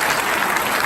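An audience at a talk applauds, a brief, steady burst of dense clapping heard throughout.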